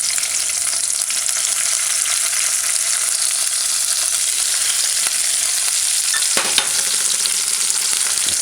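Chopped scallion and onion sautéing in hot oil in a pan for a salmon tomato stew, a steady close sizzle and crackle with a brief clatter of stirring near the end.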